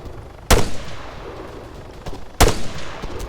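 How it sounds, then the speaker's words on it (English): Artillery rounds firing in the military shooter ArmA 3: two heavy, sharp blasts about two seconds apart, loud and close, each with a short rumbling tail over low background noise. "Oh, now you decide you want to fucking fire some of those rounds."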